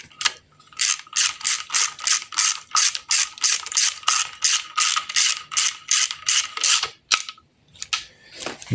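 A ratcheting wrench tightens bolts on a 1.3 MultiJet engine during assembly, making a close, rhythmic run of about twenty quick clicking strokes. A short pause and a final few clicks follow.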